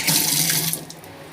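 Tap water running over coriander leaves being rinsed in a kitchen sink, a loud close steady splash that hisses brightly, then eases off near the end.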